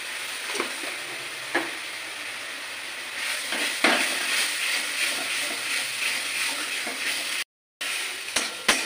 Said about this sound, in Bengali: আদা, রসুন, কাঁচা লঙ্কা, পেঁয়াজ একসাথে আমি এগুলো একটু ভেজে নিচ্ছি।